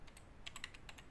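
Rapid, light keystrokes on a computer keyboard while custom name servers are typed into a DNS settings form, a quick irregular burst of clicks heard close and alone.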